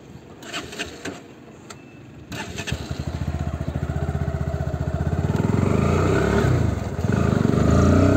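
A motorcycle engine idles briefly, then revs up and runs steadily with a loud, rhythmic putter that grows stronger as the bike gets moving.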